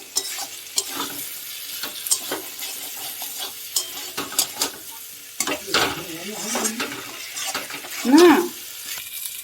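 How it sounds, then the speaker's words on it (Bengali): Potato pieces sizzle and get stirred into shrimp masala in a pan for potol chingri, with intermittent scraping strokes, soft frying hiss and a clatter toward the end. "এবার দিয়ে দিচ্ছি আলু আলুটা দিয়ে একটু কষিয়ে নেবো"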